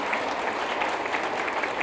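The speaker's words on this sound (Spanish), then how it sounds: "Le dan ese aplauso a quien todo nos lo da por su gracia y por su amor." A church congregation applauds during a service, a dense, steady wash of many hands clapping that carries on evenly for the whole stretch without voices.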